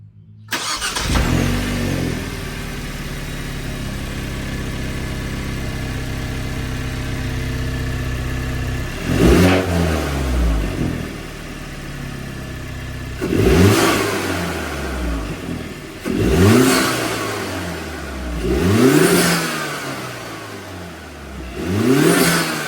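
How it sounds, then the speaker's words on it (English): A Hyundai Elantra N fitted with an AFE Takeda Stage 2 cold air intake starts up and settles into a high idle, then gets four sharp throttle blips that each rise and fall back, with added induction noise, close and without talk. "as you guys can hear, there is a little bit more of an induction noise"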